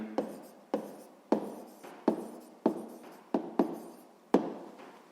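Pen writing down the answer to a math exercise on paper, a series of about nine short strokes with a sharp scratch at each start, close and quiet, with no talk.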